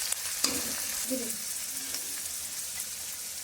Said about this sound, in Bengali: রসুন বাটা দিয়েও আবার একটু মিশিয়ে নেবো এইভাবে